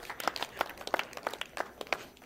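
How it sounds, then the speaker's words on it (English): Sparse, faint hand claps from a church congregation, a handful of separate claps spaced irregularly, quiet and somewhat distant. "Give the Lord a hand clap and a shout."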